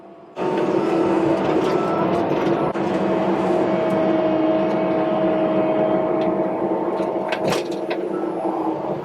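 Bulldozer clearing land on a 500-acre ranch, a loud continuous diesel engine drone with a steady hum and faint clanks, heard close up without talk.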